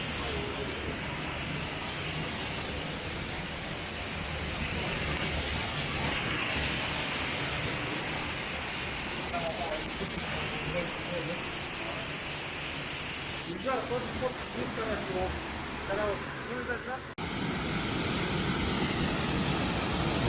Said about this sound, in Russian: Вот он, водопад, Медвежья пещера.